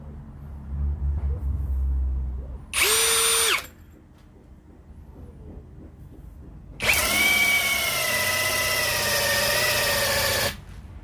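A Kyoal KY6065 65 Nm two-mode power tool runs at speed 2 in a test, giving a brief loud whining burst of about a second, then a longer steady high-pitched whirring run of several seconds, close up with no talking.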